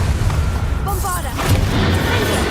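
A Bombarda blasting spell detonates in Hogwarts Legacy, a booming burst that lands midway through amid ongoing combat noise, loud and close, with a voice calling out around it.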